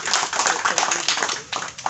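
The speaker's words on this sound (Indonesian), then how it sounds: "Ini tepuk tangan tuh Pak Habib" Hands clapping from an audience at the opening of an urban farm education site in Bekasi, West Java: a dense, steady patter of claps lasting about two seconds, fairly close, with faint voices underneath.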